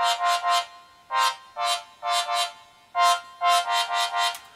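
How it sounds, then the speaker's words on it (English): A thin, sparkly synth with its low end cut away, keeping only the high register, pulses in rhythmic chord stabs with no bass underneath, playing on its own. "we have what I named the synth glitter,"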